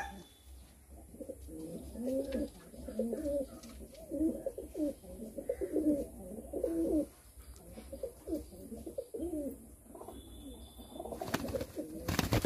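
Madrasi pigeons coo in soft, repeated rolling phrases close by, forming a steady run of low calls with short pauses between them.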